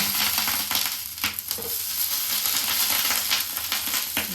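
Cooking oil sizzles steadily in a pan as it is spread out for patishapta pitha, with a constant bright frying hiss and a few light scraping clicks.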